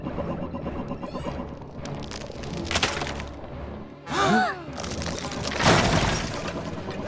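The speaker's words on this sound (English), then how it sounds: "Something's breaking through the ice wall." Loud cracking and shattering bursts of an ice wall breaking in a cartoon, several heavy crunches with splintering crackles and a rumbling backdrop.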